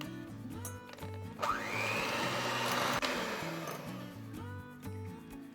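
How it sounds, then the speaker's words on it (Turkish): Three eggs and three tablespoons of sugar whisked for cake batter, most likely with an electric mixer: a loud, steady motor whir that rises in pitch as it speeds up, then runs on continuously, close by, with a faint musical bed underneath. "Çırpma kabımıza 3 adet yumurta, 3 yemek kaşığı toz şeker ilave ederek iyice çırpalım."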